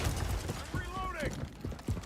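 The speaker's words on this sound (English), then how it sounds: "I'm reloading." A gun being reloaded in the video game Warzone: a short run of mechanical clicks, clacks and ratcheting metal over steady game noise, with a low voice present.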